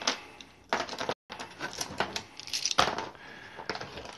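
Several dice clatter and tumble down through a paper dice tower in rapid bursts of sharp rattling clicks, close and fairly loud, with a brief silent gap before more dice cascade through.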